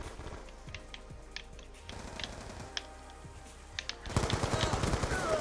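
Gunfire from the video game Black Ops 2 crackles in quick bursts and scattered single shots, then swells into heavier, louder firing toward the end, all close and sharp.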